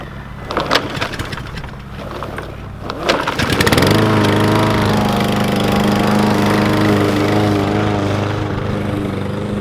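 A John Deere lawn mower starts up amid clattering handling noises, then settles into a loud, steady engine drone that runs close by without a break.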